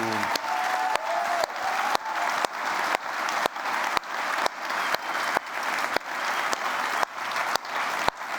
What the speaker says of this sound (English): a really huge applause to you guys